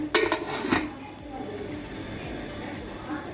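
A metal lid clanks onto a cooking pot of beef korma with potatoes, two sharp close knocks at the start followed by a low simmering background.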